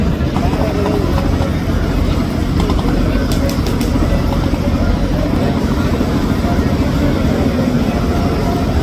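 Engine of the Sundarban 15 passenger launch running in reverse gear at the ghat: a heavy, steady low rumble fills the clip, with a person talking over the constant drone.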